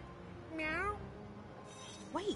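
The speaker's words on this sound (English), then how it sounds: "Meow." Two short, bright meows a little apart from a cat in the video game South Park: The Fractured But Whole, the first longer with a rising and falling pitch, over a quiet background hum.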